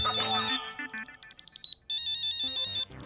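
A mobile phone rings with an incoming call in a bright, melodic electronic ringtone that loops its tune twice with a short gap, close and clear.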